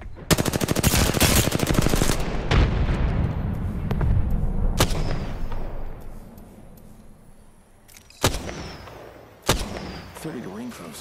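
Heavy video-game gunfire and booms from Apex Legends fill the first seconds with dense rapid bursts, then taper into scattered sharp blasts and a frag grenade detonation near the end, with brief talk in between.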